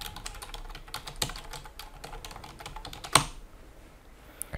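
Rapid, light clicks of keys on a computer keyboard as an email address is typed, in quick bursts with a few louder taps, close and fairly quiet with no talking.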